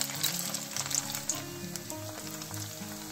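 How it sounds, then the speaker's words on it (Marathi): Rolled snack rolls deep-fry in hot oil over a low gas flame, giving a steady close bubbling sizzle with some low tonal hum underneath, no voices. "आता लो फ्लेम वरती आपल्याला हे छान असे क्रिस्पी होईपर्यंत तळून घ्यायचे आहेत।"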